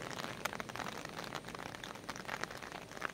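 Rain falling steadily near the Nashipur rail bridge on the Azimganj side, a dense, continuous hiss of drops on surfaces throughout, with no talking.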